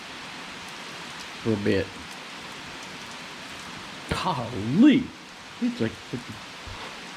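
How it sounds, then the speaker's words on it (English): Heavy rain falling on a hot, sticky day, a steady wash of rain noise throughout with someone talking over it in a few short bursts. "you can watch and listen to the rain"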